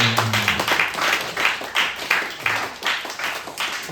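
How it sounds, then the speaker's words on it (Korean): A church youth congregation claps to welcome a visitor, a sustained round of close applause in uneven bursts, with a brief voice heard at the start. "예찬이도 세 번째 방문인데 박수로 맞이하겠습니다."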